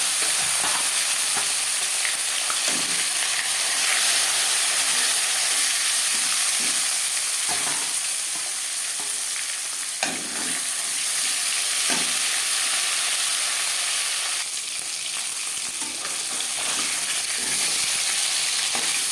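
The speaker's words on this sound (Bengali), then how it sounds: "তিন চামচ রিফাইন্ড অয়েল গরম করে নিয়েছি এবার দিয়ে দেবো মাছ" Tilapia fish sizzling and frying steadily in hot refined oil, a continuous loud crackling hiss with occasional spatters and pops throughout, no voices.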